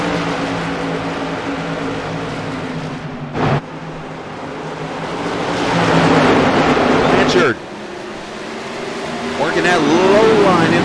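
Race cars roar around New Smyrna Speedway, a loud continuous engine drone swelling and dropping as cars pass close by, with commentary spoken over the track noise.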